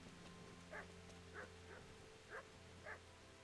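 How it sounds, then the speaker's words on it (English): Dog barking in the medieval role-playing game Kingdom Come Deliverance, five short, fairly faint barks spaced about half a second to a second apart over a steady low background hum. "The dog is barking and you came out."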